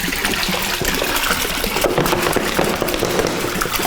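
Minute Maid lemonade and Hawaiian Punch pour steadily into a big batch of kitchen-sink jungle juice, a continuous loud splashing, gushing stream with no talk.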